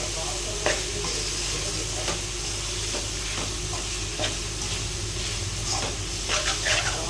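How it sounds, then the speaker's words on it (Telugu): Chicken with curry leaves fries in a pressure cooker, a steady close sizzle and hiss broken by occasional scraping stirs. "ఇది సిమ్లో పెట్టేసి ఇంకా ఫ్రై చేసుకోవాలి"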